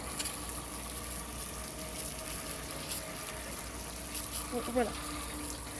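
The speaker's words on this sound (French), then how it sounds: "On allume la douche." A shower runs with a steady, even hiss of falling water close by, and a voice speaks briefly over it near the end.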